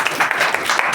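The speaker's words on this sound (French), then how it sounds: "je vous demanderai d'ailleurs d'applaudir" Brief burst of audience applause at a French-language talk, steady dense clapping for about a second.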